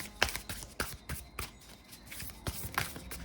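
Oracle cards shuffled by hand close up, a series of crisp riffling flutters and soft slaps coming in irregular bursts, with no talk.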